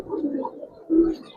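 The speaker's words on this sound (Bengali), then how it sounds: "পাথর চোখের কবুতর।" Giribaz pigeon, a stone-eyed bird held in hand, cooing in two soft low rolling phrases, the second louder and steadier, close by with no talk.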